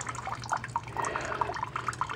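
Water drips and trickles steadily from the loosened cap at the end of a homemade survival water filter, a run of small, quiet, closely spaced drops over a faint low hum.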